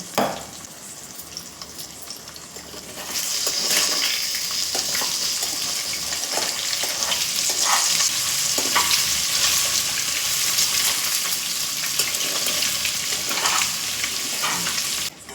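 Eggs seasoned with salt, pepper and turmeric fry in a pan, a close sizzling hiss that swells louder after a few seconds and runs on steadily with occasional stirring scrapes and no talking.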